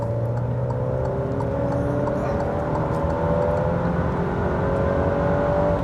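Alfa Romeo Stelvio 2.0T 280 accelerating hard in Dynamic mode, its turbo engine note climbing steadily in pitch through the revs, loud and continuous over road rumble, with no talk.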